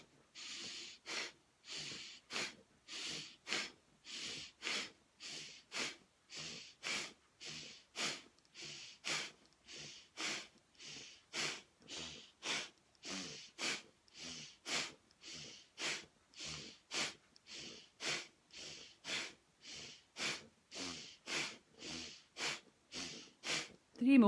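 Slow, deep breaths in and out during a guided breathing exercise, each inhale and exhale a soft airy rush repeating in an even rhythm, close to the microphone and fairly quiet.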